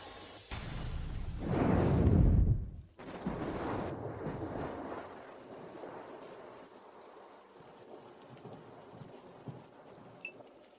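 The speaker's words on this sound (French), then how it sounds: "il pleut des cordes dehors." Heavy rain pours outside, opening with a louder rushing burst for a few seconds before settling into a steady, fainter patter.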